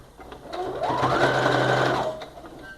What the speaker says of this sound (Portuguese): Vamos costurar agora a outra parte, tá? Colocando na máquina